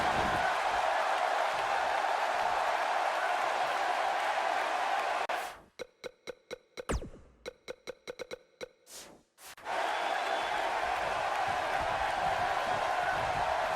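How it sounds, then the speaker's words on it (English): In the wrestling video game WWE 2K19, an arena crowd roars in a dense, steady wash of noise. The roar breaks off midway for a few seconds of sharp clicks, then resumes. "It's astonishing that the WWE Universe is back on their feet and cheering Daniel Bryan right now"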